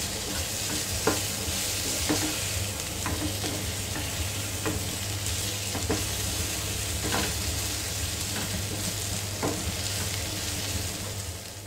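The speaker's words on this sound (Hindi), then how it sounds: "फ्राई कर दिया है गोश्त को।" Goat meat with turmeric, salt and spices frying in a pan, giving a loud continuous sizzle with regular rhythmic scrapes of stirring, close up and without talk.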